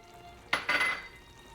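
Peas are tossed into a pan of frying Chinese curry chicken, giving a short sudden burst of sizzling with a faint clink, quiet and brief before it fades.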